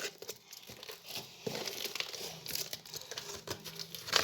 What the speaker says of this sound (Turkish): Şöyle yanına bıçağımı da aldım. burayı kesiyorum.